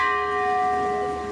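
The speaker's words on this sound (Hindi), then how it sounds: "यहाँ पे एक बड़ा सा घंटी देख सकते हैं," A large temple bell at the ISKCON Radha Krishna temple in Bangalore rings out with a steady, sustained metallic tone, several clear overtones holding and slowly fading, close and fairly loud with no talk over it.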